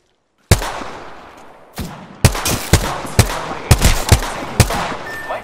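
Gunfire in Apex Legends striking the player: a sudden sharp crack followed by a rapid string of loud, close impacts and shots in uneven rhythm, with no talking.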